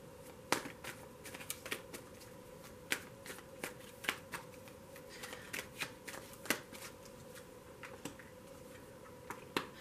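Tarot cards are shuffled by hand, producing soft, repeated riffling clicks at an uneven rhythm over a faint steady hum in a quiet room.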